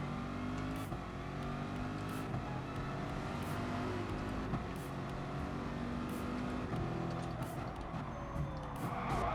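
A Corvette engine in a racing video game drones steadily and loudly throughout, with shifting, sustained revving tones and brief faint ticking over the top.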